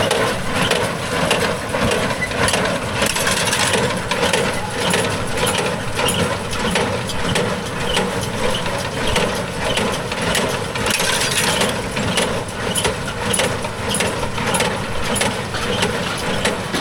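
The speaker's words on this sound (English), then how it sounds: "Uncle Tim there running the Squire baler." A Squire hay baler runs at a steady pace in a loud, close mechanical clatter, with regular knocks and ratcheting thumps repeating over the engine drone.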